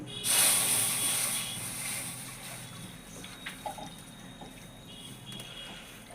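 Water poured into a hot wok on an outdoor clay stove, a sharp loud hiss bursting at the start and then fading into a softer simmering bubble with occasional faint drips and pops.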